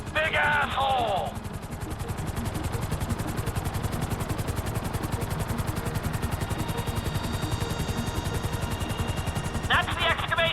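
A helicopter hovers in Grand Theft Auto V, a steady rapid rotor chop running loud and continuous throughout, with brief bursts of other game sounds near the start and end.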